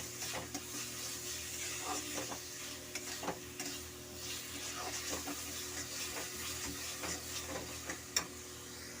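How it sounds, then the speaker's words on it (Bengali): Grated carrot and sugar for carrot halwa are stirred in a pan, with repeated scraping strokes of a spoon over a soft, steady sizzle, close and moderately quiet, and no talking. "এবার চিনির সাথে গাজরটাকে খুব ভালো করে মেশাতে হবে।"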